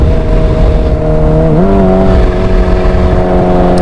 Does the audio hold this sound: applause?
no